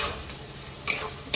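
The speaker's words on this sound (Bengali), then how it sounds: "একটু ভালো মতো কষিয়ে নিই মশলার সাথে।" Potatoes and mushrooms being stirred and sautéed in a masala for mushroom masala, a soft sizzle with quick scraping spoon strokes, brief and fairly quiet.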